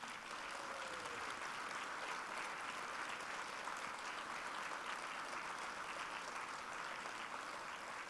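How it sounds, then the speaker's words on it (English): Steady, even clapping from an audience at a Louisville football National Signing Day party, honoring the coaches' wives; a continuous wash of many hands, fairly distant and soft, with no talking. "we give them a big applause"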